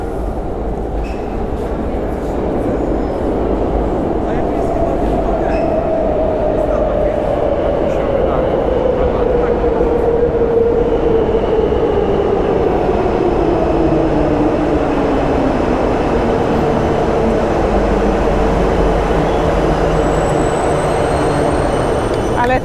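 A metro train rumbles loudly and steadily throughout, with a high metallic whine sliding down in pitch as it runs.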